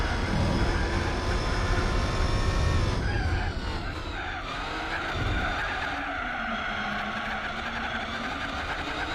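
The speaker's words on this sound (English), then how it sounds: "Listen to the car trying to find grip there, people. Did you hear it squealing?" Loud, sustained tire squeal in the racing video game Gran Turismo 4, tonal whines shifting in pitch over a roaring engine, close up and continuous.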